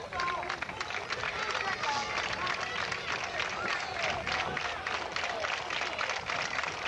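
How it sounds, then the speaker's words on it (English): A crowd roars and cheers steadily throughout a Big Ten college baseball game between Ohio State and Minnesota, a dense, continuous wash of massed voices close around the listener. "You hear the crowd"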